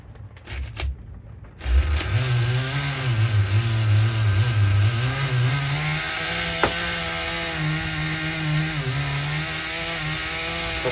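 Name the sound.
nitro engine running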